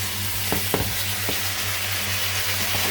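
Shrimp and bell pepper sizzle steadily in a frying pan, with a few soft scrapes and clinks of a spatula stirring through the pan near the start, with a constant hiss throughout.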